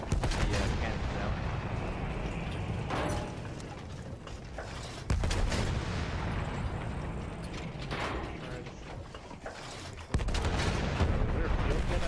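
Cannon fire in a multiplayer war shooter game featuring a dreadnought battleship: dense, continuous battle noise with repeated heavy booms and gunfire bursts, loud and close, with brief dips in intensity between barrages.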